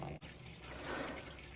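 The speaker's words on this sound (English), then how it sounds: "as we turn our tap on, that will then put our water pump on outside and get the water coming through" Water runs from a caravan tap with the pump switched on, a steady close splashing hiss after a brief dip at the start.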